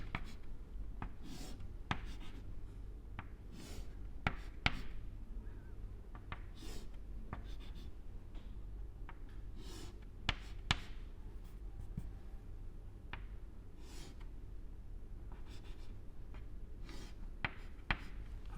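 Chalk or marker scratches steadily across a board as a magnetic arrangement diagram is drawn during a solid-state physics lecture, with repeated taps and strokes over a constant room hum, no talking.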